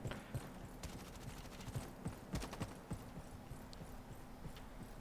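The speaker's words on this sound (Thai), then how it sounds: "มันได้ยินเสียงเท้านะ" Quiet footsteps of a soldier character in the Roblox shooter Frontlines tap in an irregular rhythm over a faint background hum, with a few sharper clicks mixed in.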